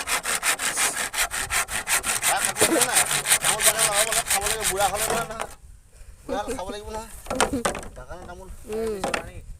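A hand saw cuts through wood into pieces with steady rhythmic back-and-forth strokes, loud and close, as people chat over it; the strokes stop partway through while talking continues.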